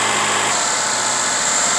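A car engine running steadily at about 2,000 RPM during a throttle-body cleaning to address a P0420 catalytic converter code, a continuous loud mechanical drone with a dense hiss throughout and no voices.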